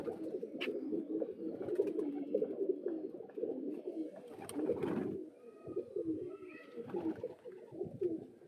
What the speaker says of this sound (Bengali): এটা হচ্ছে জিরিয়া মুন্ডি সাদা কবুতর।